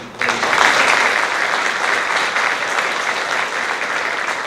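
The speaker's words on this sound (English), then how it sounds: "So I want to give Floyd a round of applause." Audience applause at a men's gathering, crisp clapping from a room of people that bursts in loudly after a brief pause and carries on evenly for several seconds.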